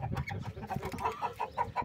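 Chickens at a rooster yard cluck softly in short repeated bursts, a rhythmic series of brief calls near the end over faint background rustling.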